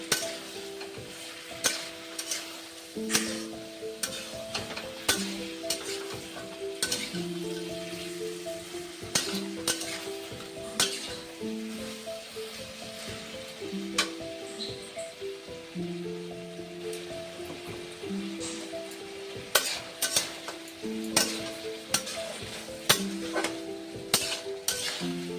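Ridge gourd, potato and papaya fry in a pan for a home-cooked fish curry, a soft steady sizzle under frequent sharp clinks and taps of a spoon against the pan, with faint tonal background sound throughout.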